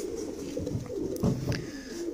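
A silky, soft, lightweight pet pigeon coos close by in a low, steady, rolling rhythm, with a couple of louder swells, and no one speaks.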